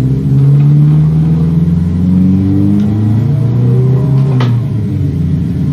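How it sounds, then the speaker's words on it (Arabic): A heavy truck engine rumbles and revs in a truck simulator game, loud and close, its pitch rising and falling steadily through the whole stretch with no talking. "التريلا صوت السياره صوتها جامد"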